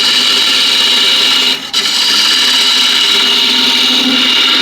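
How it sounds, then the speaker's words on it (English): A square end scraper cuts a wooden bowl spinning on a lathe, giving a steady, loud, continuous rasping hiss that dips briefly in the middle before carrying on. "using a square end scraper, for me at least, it's much more comfortable position at the lathe"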